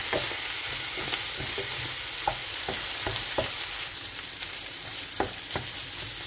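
Ground pork sisig fries in a pan with a little black soy sauce while a utensil stirs it, giving a steady close sizzle broken by irregular scraping knocks, with no voices.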